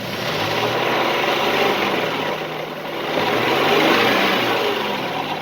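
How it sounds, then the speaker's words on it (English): A car engine runs loudly close by, its steady drone swelling as it revs up and then easing back, with no voices. "If I should increase the RPM on the engine"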